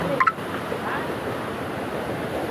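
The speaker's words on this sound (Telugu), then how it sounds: "Water falls." A waterfall, one of several tiered cascades dropping one below another, gives a steady, even roar of rushing water. A faint brief sound appears near the start.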